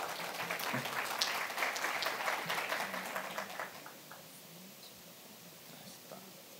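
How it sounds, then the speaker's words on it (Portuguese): Audience applause at a satellite industry congress, a broad steady wash of clapping that fills the room for a few seconds, then thins out and fades to scattered claps. "Peço uma salva de palmas para o Giuseppe."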